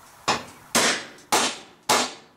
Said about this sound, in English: And then give it 2 to 3 whacks depending on how hard you swing this hammer.